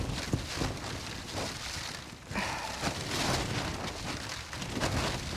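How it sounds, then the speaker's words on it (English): Heavy rain blowing in through the open door of a tarp shelter at a lake campsite in strong wind, a dense continuous roar of drops pattering close on the fabric, with no voices. "has now meant the rain is coming directly in on us"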